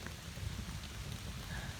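Steady rain falling at night on a campsite, a soft continuous patter with low rumbling wash, fairly quiet and even throughout with no voices.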